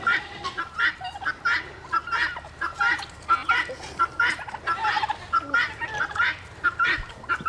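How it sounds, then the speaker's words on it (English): Turkeys gobbling repeatedly in loud, rapid bursts, several birds calling over one another close by with no talk. "Look, that's how silly these turkeys are."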